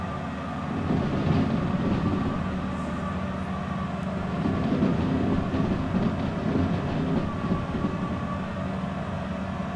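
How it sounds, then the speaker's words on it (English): A long freight train runs at about 70 mph through a yard while its train brake is applied lightly. A steady, dense rumble and rolling rail noise fills the whole stretch, without pauses. "A little bit of train brake."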